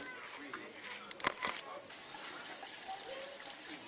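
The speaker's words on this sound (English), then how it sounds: "A small creek runs through here." A small creek trickles through a palm-lined desert canyon near Palm Springs, California, a soft continuous babble of running water heard faintly from nearby, with a brief louder splash in the middle.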